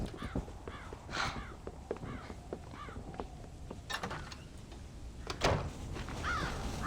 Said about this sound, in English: Scare the crows out of the silo.